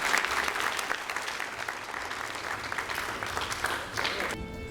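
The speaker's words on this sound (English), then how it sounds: "Let's give another round of applause for our support staff Star Award winners." An audience at a school district awards ceremony claps for support staff Star Award winners, with dense, sustained applause that stays steady for several seconds before tapering off at the end.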